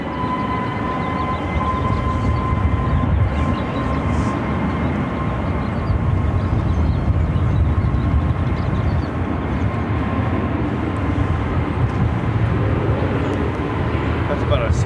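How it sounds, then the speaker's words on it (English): An American Airlines A321neo airliner at Phoenix airport about to take off, a loud continuous engine roar with a steady whine, constant and close throughout. "This American Airlines A321neo about to take off to Kahului."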